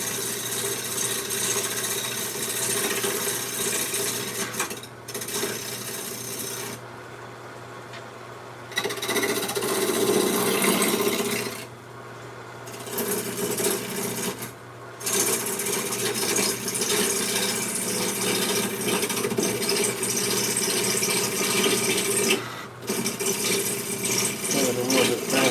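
A wood lathe turns a bowl blank, giving a steady, loud mechanical whir with a continuous rattling chatter; it drops away briefly several times and then resumes.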